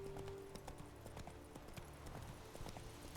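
Roach, Geralt's horse in The Witcher 3 video game, trots with clear, repeated hoof clip-clops at a steady rhythm, close and fairly quiet over a low ambient bed, with no one speaking.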